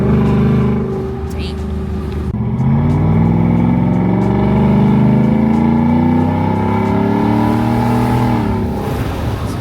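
Ford F-150 single cab pickup with an aftermarket exhaust, a loud, close, sustained deep engine drone rising and falling through light throttle blips, with someone talking over it.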